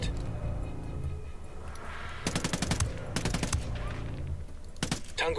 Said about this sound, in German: Tango hat den Schuss gehört.